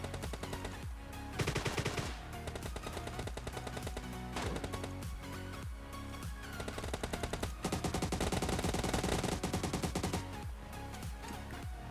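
Gunfire in the video game PUBG Mobile Lite, with AKM, MK14 and Groza rifles in a firefight: dense, rapid automatic bursts and single shots that are loud and close, running nearly continuously with brief gaps.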